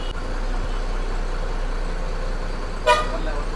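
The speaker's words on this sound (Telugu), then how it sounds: "లారీ వచ్చేసింది చూడండి" A lorry rolls past on a narrow road between Palakollu and Bhimavaram, heard from inside an AC sleeper bus, with a steady engine and road rumble and one short horn toot near the end.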